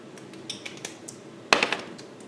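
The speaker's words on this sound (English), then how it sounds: "Mix that up real good." A utensil scrapes and clinks against a bowl while chicken salad is mixed with garlic sauce and pepper, several light taps, then a sharper clatter of strokes.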